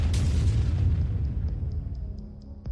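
A powerful explosion as drone-dropped explosives strike a Russian tank on the battlefield: one loud, deep boom that rolls out and fades over a couple of seconds, ending with a short sharp crack.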